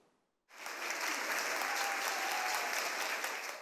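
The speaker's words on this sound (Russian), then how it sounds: "по овации своих коллег получает главный инженер предприятия «Севастопольгаз» Сергей Самойленко." Colleagues applaud at an award ceremony for the chief engineer of a Sevastopol gas company, a dense, steady burst of many hands clapping that starts abruptly and holds loud and even.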